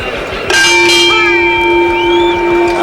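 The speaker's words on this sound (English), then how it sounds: "the bell sounds for round 4" The ring bell rings for round 4 of the Muhammad Ali vs Ken Norton boxing fight, a bright, sustained metallic clang struck a couple of times, its tone lingering over steady arena crowd noise.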